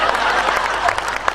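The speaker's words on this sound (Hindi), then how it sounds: "अब तुम भी कुछ ताली बजाओ" An audience applauds at a Hindi poetry gathering (kavi sammelan) in Seawoods, a dense continuous burst of clapping from a nearby crowd.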